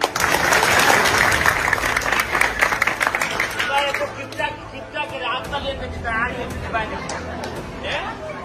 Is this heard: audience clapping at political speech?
yes